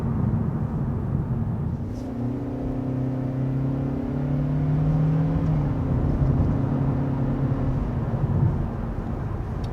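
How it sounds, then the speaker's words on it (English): A 2022 Kia Forte engine hums smoothly as it accelerates, its low drone rising steadily in pitch, fairly quiet and refined, with no voices. "it is a pretty quiet and refined engine"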